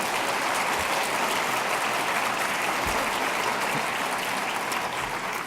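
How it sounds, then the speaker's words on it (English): Continuous, even applause fills a conference hall as an audience thanks innovation showcase presenters, broad and steady from start to finish with no talk over it. "Give them a big round of applause, please."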